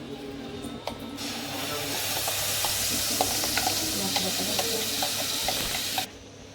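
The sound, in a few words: stirring mango malai barfi mixture in a pan over low heat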